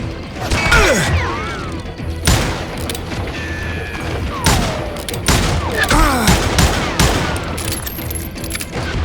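Rapid, loud gunfire from a Wild West shootout in the video game Call of Juarez: Gunslinger, with repeated sharp cracks, crashes and ricochet-like whines packed densely over the whole stretch.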